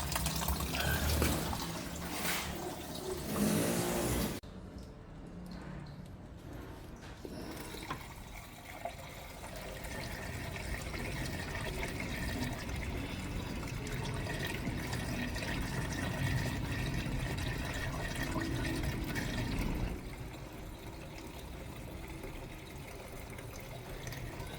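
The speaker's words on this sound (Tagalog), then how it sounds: "Tapos naglagay ako ng distilled water" Distilled water pours into the cooling system of a Chevrolet Trailblazer during a coolant change, a steady close gush and trickle of liquid that runs for over twenty seconds with a brief louder splash at the start.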